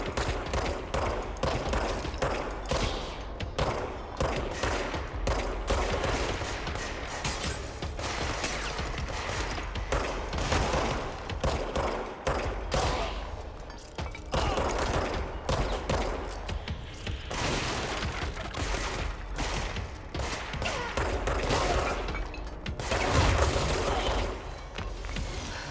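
Enemy gunfire in the video game Control, sustained and loud, with rapid bursts and overlapping shots that run almost without a break through a dense mix of combat noise.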